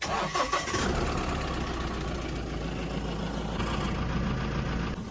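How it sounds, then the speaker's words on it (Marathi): A diesel motor by the diesel tank of a farm vehicle gives a steady, loud hissing engine rumble that runs close and unbroken for the whole stretch, with no voices over it. "हा फुसफुस जो आवाज आहे डिझेलची जी मोटर आहे डिझेल टाकीपाशी त्याचा आवाज आहे"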